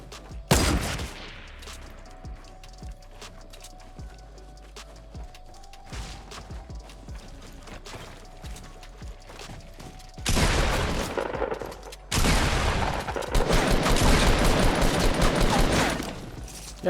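Rapid bursts of gunfire in a Fortnite battle royale match, with a loud shot early, scattered quieter fire, then sustained heavy volleys toward the end.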